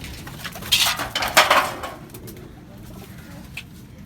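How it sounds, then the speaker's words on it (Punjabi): Pigeons in a loft coo and flutter near the microphone, a burst of activity in the first two seconds that settles into quieter rustling and one more short call. "ਆ ਫੇ ਆ ਗਏ ਜੀ ਵੱਡੇ ਕਬੂਤਰ"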